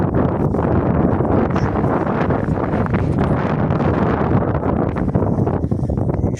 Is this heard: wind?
yes